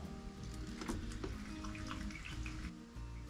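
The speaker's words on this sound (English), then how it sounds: "So I'm filling the pump cavity here at the top of the pump, the impeller and whatnot, and down the suction line to the foot valve" Water is poured into a pump cavity to prime it, filling the impeller housing and suction line, making a continuous close splashing and gurgling trickle that runs the whole time with small surges, no talking over it.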